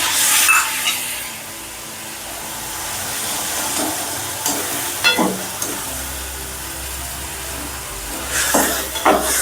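Tomatoes sizzling in a pan for a green pigeon pea curry, a steady fry hiss broken by repeated scraping stirs of a spoon against the pan, close and fairly quiet.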